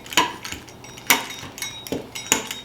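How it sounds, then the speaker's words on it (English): A pizza cutter rolls through scone dough for cherry chocolate scones, giving several short, sharp clicking taps spaced about half a second apart, close and fairly quiet with no talking. "So I'm just using a pizza cutter"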